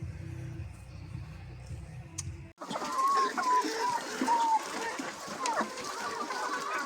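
Chickens cluck and murmur close by in a noisy coop, with scattered rising calls over a steady background of rustling and movement.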